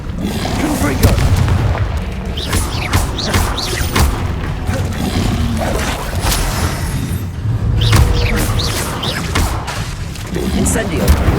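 Confringo blasting spell explosions in Hogwarts Legacy come as repeated deep booms and thuds mixed with sharper bursts, loud and busy over several seconds of combat, with voices heard among them.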